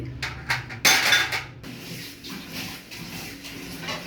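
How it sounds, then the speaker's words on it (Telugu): Metal clatter from a pan of roasted coriander seeds, with utensil scraping and knocking as the seeds are stirred and removed, close and moderately loud in a home kitchen. "ధనియాలు వేగిపోయినవి, ధనియాలను తీసేసుకుంటున్నాండి."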